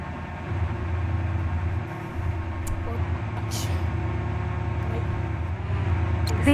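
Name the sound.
train passing Hemden Park in video game Stepford County Railway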